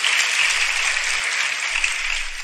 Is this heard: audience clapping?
yes